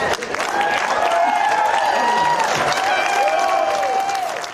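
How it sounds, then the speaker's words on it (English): A large political rally crowd cheers and applauds loudly and steadily, with shouts and whistles rising over dense clapping that swells and fades across the few seconds. "Big cheers from the crowd there"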